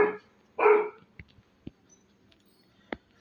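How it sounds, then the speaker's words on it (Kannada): A Labrador mother dog near her litter of puppies lets out two loud close bursts of barking, followed by a few faint clicks and soft sounds in a quiet room. "ಮದರ್ ಕೂಡ ಇಲ್ಲೇ ಇದೆ, ಜೋರಾಗಿ ಸೌಂಡ್ ಮಾಡ್ತಾ ಇದೆ"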